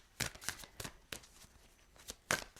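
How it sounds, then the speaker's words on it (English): Tarot cards are riffled and shuffled in several quick, crisp bursts, close up and fairly quiet, with short pauses between. "One more shuffle, please."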